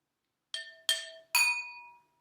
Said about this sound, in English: I'm going to pick what the glass sounds like